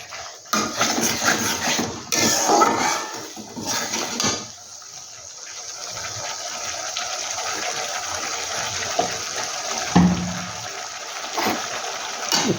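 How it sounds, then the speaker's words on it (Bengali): A little water poured into a cooking pot: splashing and trickling with clinks of metal cookware, followed by a softer steady hiss of simmering. "সামান্য জল দিয়ে দিচ্ছি"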